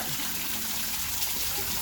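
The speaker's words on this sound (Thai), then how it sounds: "น้ำตกอันนี้ชอบมาก" A waterfall at a dinosaur museum gives a steady, broad rushing hiss that fills the whole moment evenly, continuous and fairly close.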